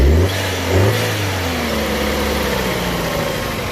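An Opel Meriva car engine, one losing oil, revs up sharply twice close by, then settles into a loud, sustained running drone with a slowly falling pitch.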